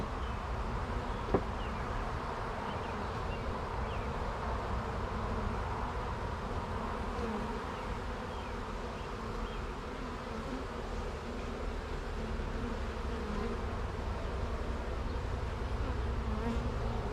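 A honeybee swarm housed in a shop buzzes steadily in and around the hive, a dense continuous hum at moderate, even level with no talk over it.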